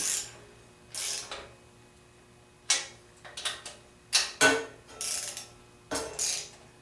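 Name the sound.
torque wrench ratcheting on Volkswagen 1915 engine bolts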